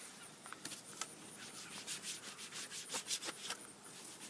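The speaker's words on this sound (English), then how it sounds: "I'll wipe all that dust off." Cloth wiping dust off BMW or Mercedes interior trim, a run of soft, uneven rubbing strokes, close and fairly quiet, with no talking.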